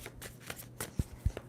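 A tarot deck shuffled up close, giving soft papery riffles and slides with two firmer thumps as the cards are squared, quiet and without speech.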